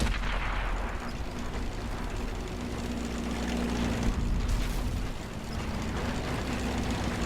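In World of Tanks, incoming shots strike the player's tank, likely from an AT-15: heavy thuds and booms sit over a constant loud engine drone and rumbling battle noise.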